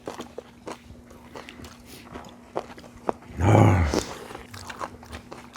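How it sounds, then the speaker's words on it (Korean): Crisp kimchi pancake is bitten and chewed close up, with scattered crunches and one louder burst of chewing in the middle; no talking. "바삭바삭한 게 맛있네."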